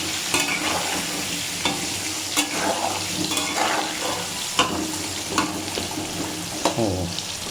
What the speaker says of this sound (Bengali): চলুন আলুটা ততক্ষণে লাল লাল করে ভাজা হোক।